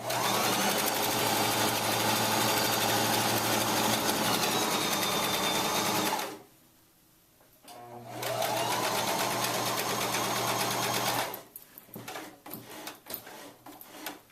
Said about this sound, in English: Leave the needle in, lift up the presser foot, and then go again.